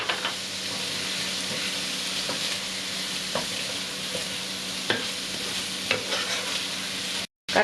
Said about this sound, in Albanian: Ndërkohë që karkaleci skuqet,